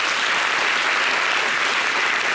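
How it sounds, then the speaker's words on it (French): A TV studio audience on La Télé d'Ici claps for the women in a brief, loud, uniform burst of dense applause with no voices over it. "On applaudit les femmes."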